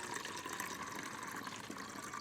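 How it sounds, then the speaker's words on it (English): Water pouring steadily into a container outdoors at a bushcraft camp, a continuous close gushing splash that holds even throughout, with no voices. "I'm going to fill this up with dirty water."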